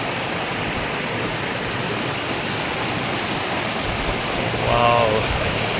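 A waterfall near Lonavala during heavy rain roars as a dense, continuous rushing wash of water that stays loud and unbroken throughout, with a brief voice rising faintly over it near the end.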